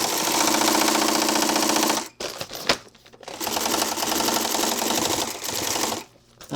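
A lockstitch sewing machine without reverse runs in fast, steady bursts of even mechanical clatter, stopping briefly twice before starting up again, close and loud with no talking.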